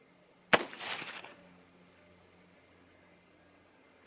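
A single sharp rifle shot from a 6mm ARC, a loud crack with a brief rumbling tail, then quiet hum outdoors.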